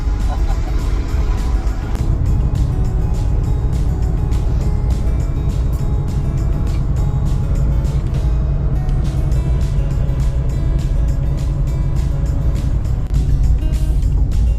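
A car drives along a highway, a steady loud rumble of engine and road noise with wind, unbroken throughout with no talk.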